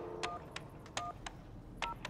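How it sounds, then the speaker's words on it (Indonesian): Telephone keypad tones beep one after another at an irregular pace, each a short clean burst over faint background hiss, alone with no voices. "Beberapa kali ia mencoba menghubungi mentornya Umra melalui saluran telepon rahasia."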